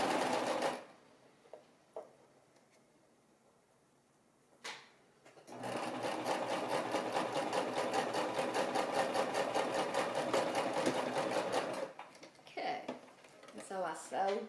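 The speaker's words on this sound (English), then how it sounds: "So I sewed, and then I backed up in order to secure the stitch." A home sewing machine stitching fabric with purple thread runs in a steady, rapid mechanical whir for about six seconds, then backs up to lock the stitch, with a person talking before and after the run.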